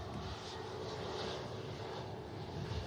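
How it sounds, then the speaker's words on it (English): Steady, fairly distant drone of a Jet2 airliner at Manchester Airport, heading out for Fuerteventura, a continuous broadband engine roar holding an even level for about three seconds with no talking. "It's Jet 2 heading out to Fuerteventura."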